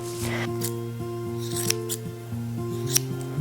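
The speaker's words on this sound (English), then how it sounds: "I could trim the wool off here" Scissors snipping wool while trimming filling for a natural wool pillow, a few sharp close cuts over a steady background hum.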